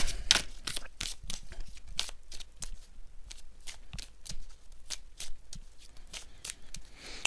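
Oracle cards being shuffled by hand, a rapid run of crisp riffling slaps and flicks repeating steadily at close range with no talking.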